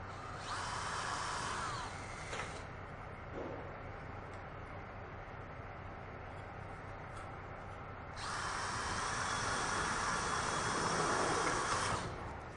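Power drill driving a self-drilling screw into a reinforced metal ceiling profile: two loud, sustained high-pitched whining runs, a short one at the start and a longer one later, separated by quieter handling noise.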